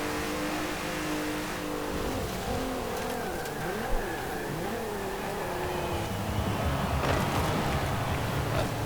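A hot hatch engine in the racing game Forza Horizon 4 revs and climbs through gears with rising and falling pitch sweeps, loud and continuous, with a brief tyre squeal as it corners.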